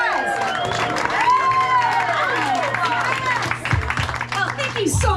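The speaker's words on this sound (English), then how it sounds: "Who is here for the very first time? Round of applause!" A comedy audience in a small basement venue claps and cheers steadily for about five seconds. Shouts and whoops rise over dense, continuous applause, with voices mixed throughout the crowd noise.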